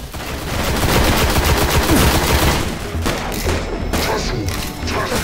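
Rapid gunfire from the Destiny video game rattles in dense, continuous bursts across the stretch, loud and close, with no voices over it.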